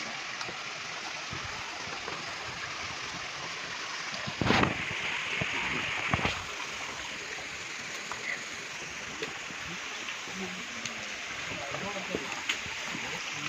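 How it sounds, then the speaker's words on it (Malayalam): A mountain stream flows among rocks on the Agasthyarkoodam trek, a steady broadband rush of water throughout, with a couple of brief louder splashes or knocks partway through. "അങ്ങനെ ഒരു അരുവിയുടെ അടുത്തെത്തിയിരുന്നു"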